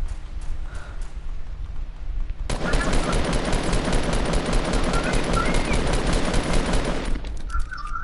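Rapid bursts of video game gunfire erupt loud and dense after a quieter opening, sustaining for several seconds as a squad firefight before cutting off near the end.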